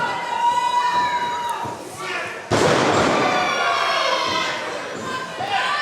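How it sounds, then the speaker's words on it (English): A wrestling drop kick lands with one sharp, heavy thud on the ring at a Texas Contenders Series show, cutting through steady crowd noise and cheering that swells after the impact. "Drop kick from El"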